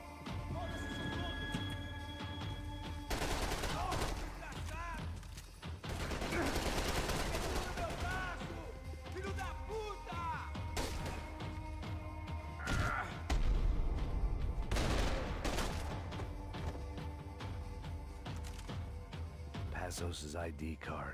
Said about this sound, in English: that's a shotgun. I thought it was a rifle at first.